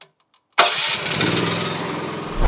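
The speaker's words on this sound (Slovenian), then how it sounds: "Tlele spredi pred stojišem se pa skriva tudi Hondin motor" Honda single-cylinder 390cc engine on a WorkyQuad mini loader cranks and fires after a short quiet pause, then settles into a loud, even idle with a rise at the very end.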